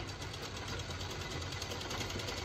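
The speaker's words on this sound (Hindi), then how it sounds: "मम्मी का सिलाई नहीं हुआ रे अभी तक रे मुक्कू।" A household sewing machine runs steadily with a fast, even mechanical whir and clatter, close and continuous for a few seconds, with no one talking.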